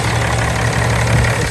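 A Ram 3500 pickup engine idles just after an alternator replacement, a steady, loud, even rumble heard up close with no change over the brief moment.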